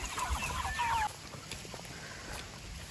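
Pastured chickens clucking outdoors on grass strips, a steady chorus of overlapping clucks and soft calls at moderate distance, continuous throughout with a slightly louder stretch in the first second.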